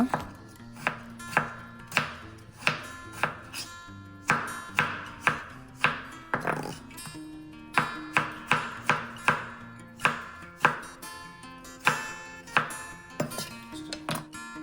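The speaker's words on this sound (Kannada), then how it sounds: "ಮೊದಲು ಈರುಳ್ಳಿ ಕಟ್ ಮಾಡ್ಕೊಂಬಿಡೋಣ. ಹಾಗೆ ಟೊಮೊಟೊ ಕಟ್ ಮಾಡ್ಕೊಳ್ಳೋಣ." A knife chops onions and tomatoes on a board in a home kitchen while cooking sambar. The cuts are sharp, close and rhythmic, in quick bursts with brief pauses, and no voices are heard.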